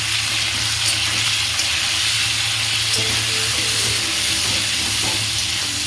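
Large-diced onions fry in hot oil with cumin and bay leaf, giving a loud, continuous sizzle and crackle close by, with occasional stirring.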